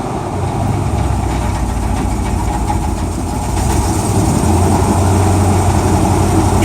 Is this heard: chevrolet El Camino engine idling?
yes